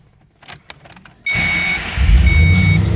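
A supercharged 2005 Ford Mustang Saleen S281 convertible starts with a sudden burst after some soft clicks, then settles into a loud, close, steady idle carrying a faint whine.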